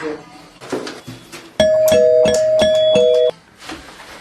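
A doorbell rings with a clear, loud ding-dong chime lasting under two seconds, set between stretches of people talking.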